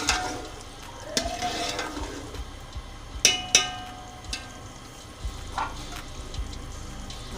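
Boiled taro root (arbi) with chicken fries and is stirred in a pan: a steady low sizzle with intermittent utensil scrapes and two sharp metallic clanks near the middle.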